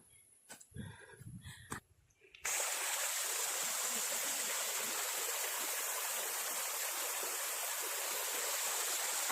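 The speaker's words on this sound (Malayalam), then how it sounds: "ഇതൊക്കെ നോക്കുമ്പോൾ കൊച്ചു കൊച്ചു അരുവികൾ" Small forest streams flowing near Dhoni waterfalls make a steady, loud rushing of water that starts abruptly after a few seconds of brief, mixed sounds.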